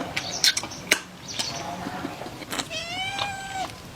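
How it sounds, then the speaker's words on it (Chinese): A small house cat meows near a table where spicy meat sausages are being eaten, its rising, drawn-out calls coming mostly near the end amid light tapping and a little background voice. "等一下，珍珠，给我们家小猫咪也分享一下"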